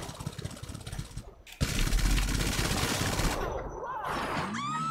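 The Tyrant vehicle's mounted gun in GTA 5 fires continuously in a dense, loud rattling stream, with engine noise running underneath, then the fire cuts out and a whooshing, rising whistle follows.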